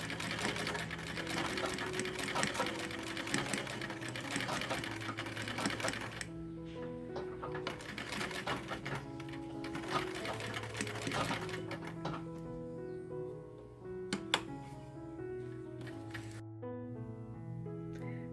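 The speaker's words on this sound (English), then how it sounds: "starting the spin and following the line down as best I could" A sewing machine stitches a panel for a Victorian zip pouch, its needle chattering in fast, even runs that stop and restart, close and clear, with a soft musical backing underneath.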